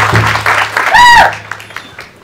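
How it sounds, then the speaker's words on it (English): Audience applause bursts out at an outdoor groundbreaking ceremony for the Warm Springs cannabis enterprise. A dense wash of clapping rises and then fades over about two seconds, with a voice calling out above it. "So if you give a good round of applause for Mr. Chairman Green, thank you so much"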